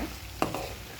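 Half a kilo of bitter gourd pieces and three large onions frying in a pan, a soft low sizzle with two brief stirring knocks, close and quiet.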